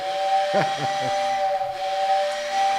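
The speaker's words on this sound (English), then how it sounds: "You want to give me another whistle there?" A steady hissing steam whistle sounds throughout, while a few brief low voiced bursts rise near the start.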